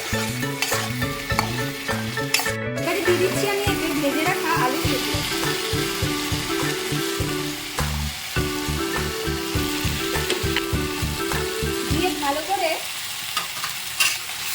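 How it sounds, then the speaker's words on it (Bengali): Spices with salt, chilli and cumin powder being stir-fried for a potato and aubergine bhola fish curry, a steady loud sizzle with rhythmic scraping of a spatula against the pan throughout, no talk. "পরিমাণ মতো নুন দিয়ে কষিয়ে নিচ্ছি"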